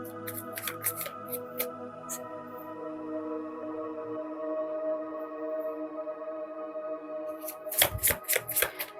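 A tarot card deck being shuffled: quick crisp riffling bursts at the start, a quiet stretch with a faint steady hum, then another loud flurry of card flicks near the end, with no talking.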